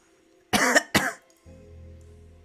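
Two sharp coughs in quick succession from one person nearby in a damp cellar, followed by a low steady hum.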